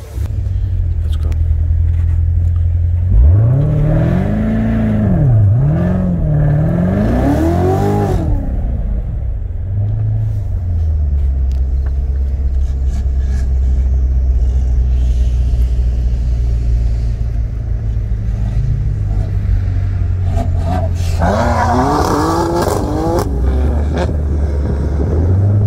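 A C7 Corvette Z06 and a manual BMW M2 Competition with intakes, downpipe, midpipe and a 93 tune accelerating in a roll race from 45 mph, loud engine drones rising and falling through gear shifts, with a second pull near the end.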